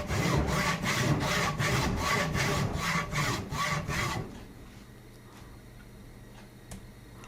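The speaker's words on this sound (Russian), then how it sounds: "Зажимаю в тиски, чтобы мне было удобно пилить" Hand saw cutting a wooden axe handle clamped in a vise, with a steady rhythm of about a dozen loud, close back-and-forth strokes that stop partway, leaving quiet shop noise and a faint tap.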